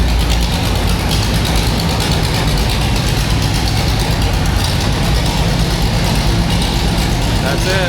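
A Dodge Charger's engine runs loud and steady at close range as the car is moved, a dense low rumble that continues throughout with a voice speaking over it.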